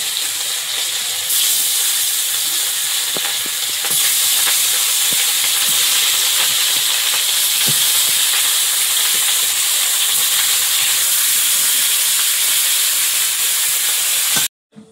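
Small river fish such as gagra and tengra fry in hot oil in a wok, giving a loud, steady, close hiss and sizzle that carries on unbroken before cutting off abruptly near the end. No talking.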